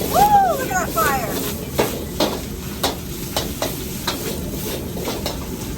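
Meat and vegetables stir-fried over high flame for drunken noodles in a San Diego Asian bistro kitchen, with a steady sizzle and a series of sharp scraping clanks from the wok, while people talk over it.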